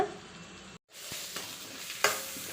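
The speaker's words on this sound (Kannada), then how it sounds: "ಈಗ ಬೇಯಿಸಿರುವಂಥ ಆಲೂಗೆಡ್ಡೆಗಳನ್ನ ಹಾಕ್ಕೊಂಡ್ಬಿಡೋಣ" Boiled potatoes stirred into a frying pan of turmeric-spiced fried mixture, a near, steady sizzle broken by a brief silent cut and a couple of sharp scraping strokes.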